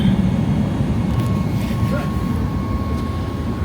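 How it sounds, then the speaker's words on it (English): Inside a Roc airliner climbing out after takeoff from Varadero, Cuba, a loud steady cabin roar of engines and airflow carries a thin high whine and occasional faint clicks. "Well, that was Takeoff."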